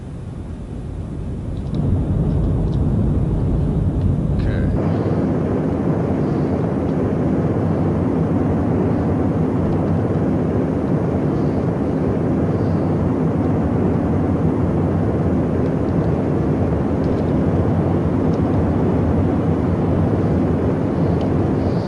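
An aircraft engine in a flight simulator game spools up for takeoff, a loud, steady, broadband roar that swells within the first few seconds and then holds constant and close throughout.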